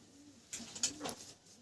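Pigeon coos from a pigeon fancier's egg-and-chick breeding birds, soft low calls repeating a few times at close range against faint background noise, with no talking.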